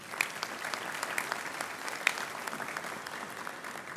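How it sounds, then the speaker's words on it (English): Audience applause at a university graduation ceremony, a steady, moderately loud wash of clapping from a large hall crowd that carries on evenly throughout. "I think that deserves another round of applause."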